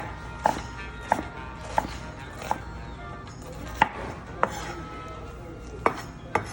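A knife slices through onions on a board, giving evenly spaced crisp thuds roughly every half second to second, close and distinct over a faint background with no talk.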